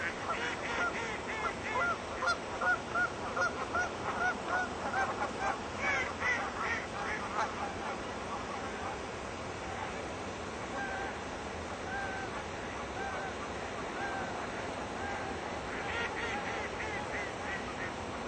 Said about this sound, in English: looks like there's some exciting things going on here on the river. If you're a duck or a goose